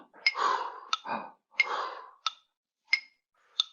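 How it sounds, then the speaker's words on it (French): Metronome ticking steadily at a slow tempo during a mouth-breathing exercise, sharp clicks spaced about two-thirds of a second apart, interleaved with loud close breaths in and out. "au rythme du métronome que je vais mettre, que voici."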